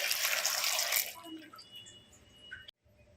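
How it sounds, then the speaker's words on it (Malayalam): A cup of water splashes into a cooker holding jackfruit pieces, a loud brief pour lasting about a second before settling into faint dripping and small knocks. "ഇതാ 1 കപ്പ് വെള്ളം കേട്ടോ ഞാൻ ഒഴിക്കുന്നത്."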